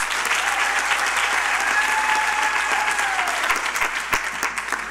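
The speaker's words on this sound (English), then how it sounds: "So give them another round of applause." Audience at a university graduation ceremony breaks into sustained applause, dense steady clapping from a large crowd filling the hall, fading slightly toward the end.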